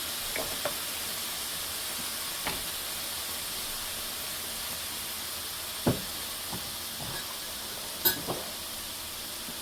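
Chopped onions sizzle in hot oil in a pan for spicy fried rice, a steady soft frying hiss with a few sharp clinks and scrapes of a spoon scattered throughout, no voices.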